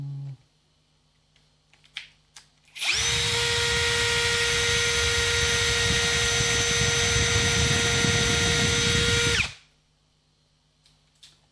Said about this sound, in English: So what I'm going to do here is drill another hole.